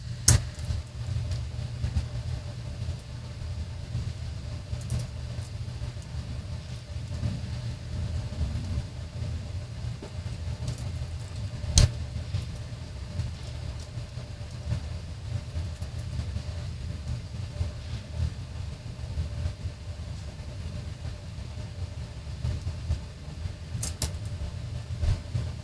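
A train sample playing as a steady low rumble of rolling rail cars with faint rhythmic clatter and a couple of sharp clanks, continuous throughout without speech.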